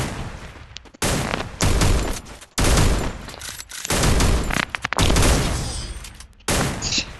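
Loud, sustained bursts of video game gunfire rattle in rapid volleys separated by brief pauses, dense and close throughout.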